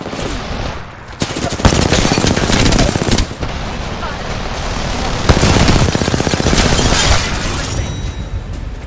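Rapid automatic gunfire in the video game Apex Legends, loud sustained bursts with short pauses, layered with impacts and game effects.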